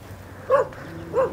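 Dogs near a rural house let out two yelping barks about half a second apart, and a faint whine is audible between them.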